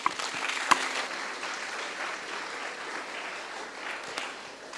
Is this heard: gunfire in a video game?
no